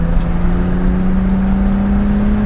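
Nissan Skyline GT-R34 accelerating hard down a straight, a loud, close, steady engine drone with a strong sustained tone rising slightly in pitch, no voices over it.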